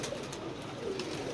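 A brief, low pigeon coo murmurs close by in rough weather, a soft rolling tone over steady background noise with no voices.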